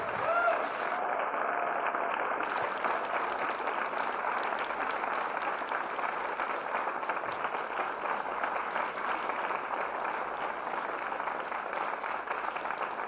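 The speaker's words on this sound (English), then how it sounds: "so give a super duper warm applause for Ren Rigby." Audience at a morning speaker event giving warm, sustained applause, a dense and even roar of clapping held at steady loudness for over ten seconds with no voice over it.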